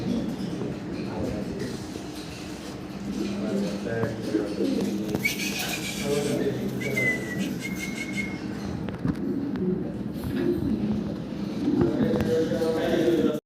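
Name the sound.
male holy copper pigeon calling in breeding mode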